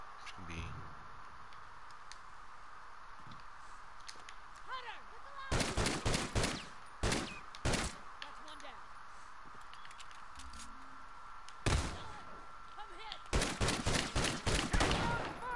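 Shotgun and other gunfire in The Last of Us Remastered multiplayer Factions match, several sharp loud bursts in clusters, some rapid, over a quiet background with faint voice chat.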